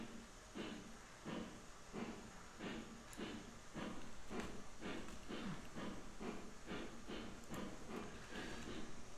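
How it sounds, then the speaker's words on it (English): Porter steam locomotive laboring under a heavy train in Railroads Online, with regular, evenly spaced exhaust chuffs over a constant steam hiss. The chuffs stay close and steady throughout. "this train is a little bit too heavy for a porter on this terrain"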